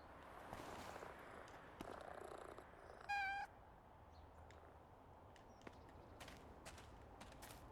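Cats in the PowerWash Simulator video game purr softly and steadily, broken by one short bright meow partway through and a few faint clicks and taps.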